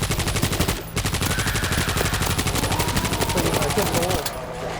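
Rapid, continuous machine gun fire in steady bursts in the video game World War Z Aftermath, loud and close, with a brief break near the start and faint speech underneath.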